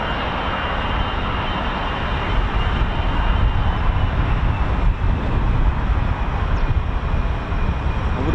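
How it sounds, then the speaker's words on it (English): Jet aircraft engine noise at RAF Waddington, a continuous broad roaring rumble that holds steady and loud throughout, with no voices heard. "It does sound like jet noise"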